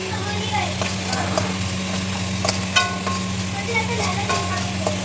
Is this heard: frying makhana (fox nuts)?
yes